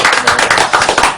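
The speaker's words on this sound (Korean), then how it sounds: "네, 박수 하겠습니다." A small audience at a church youth class claps briefly, loud and close, in quick rhythmic bursts.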